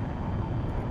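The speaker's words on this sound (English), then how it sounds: "Full power, afterburner on" An English Electric Lightning F6 jet engine running at full power with afterburner lit, a dense, loud, continuous roar filling the whole brief moment.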